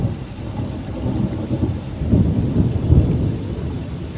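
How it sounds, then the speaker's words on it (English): Deep, rolling thunder rumbles close overhead in a storm that has not yet started raining, swelling in two heavier peaks near the end of a steady low growl, with no voices. "The storm is pretty much on top of me, just hasn't started raining."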